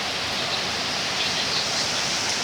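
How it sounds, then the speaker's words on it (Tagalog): A steady, loud rush of floodwater flows in a strong current during Typhoon Aghon. The roar is broadband and continuous, with no breaks and no voices. "Lakas ng agos, oh."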